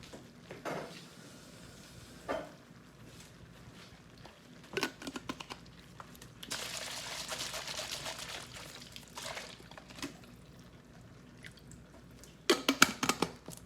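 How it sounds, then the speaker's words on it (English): Water added to a pasta sauce jar while stuffed shells are made, heard as quiet pouring and trickling with a few drips and clinks, a steadier pour near the middle and louder handling at the end. "I'm just going to add some water to this to get the leftover sauce."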